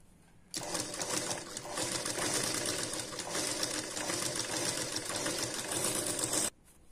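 A sewing machine stitches a one-tuck blouse back in a steady, rapid clatter that runs unbroken for about six seconds, close and fairly quiet, then stops abruptly.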